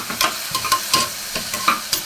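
Onions fry in a pan and are stirred with a utensil, producing close, rhythmic scraping strokes several times a second over a steady sizzle, with no talking.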